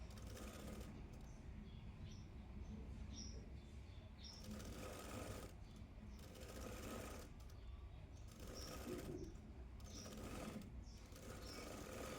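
A sewing machine stitches a blouse, folding the main dart as it sews, with a steady mechanical whir running for the whole stretch and brief pauses and shifts in speed.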